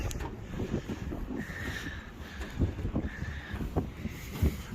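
Wind rumbles and gusts across the microphone in uneven bursts, with faint outdoor background noise and a few brief knocks.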